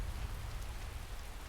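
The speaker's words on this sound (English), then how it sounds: "Now we've got a pretty good rain going." Rain pours steadily in a modded video game, a dense even hiss with a low rumbling undertone, no voices, unbroken for the whole stretch.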